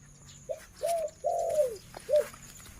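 A female spotted dove gives a short series of soft, hollow coos, one drawn out longer than the rest, close by against quiet background hiss.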